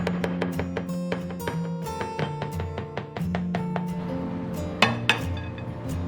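A knife chops lean pork tenderloin into slices on a cutting board, a brisk series of sharp knocks in irregular rhythm, close and clear, ringing over a soft sustained tonal background.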